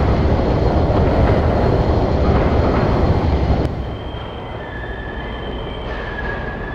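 Train riding on rails in a video game, a loud dense rumble of wheels that suddenly drops to a quieter rolling hum with thin high squeals of wheels on track.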